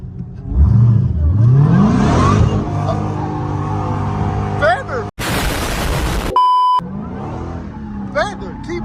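A catless Dodge Hellcat V8 revving under throttle, loud and close, with the pitch climbing and holding before a sharp crackling burst near the end, and people talking over it.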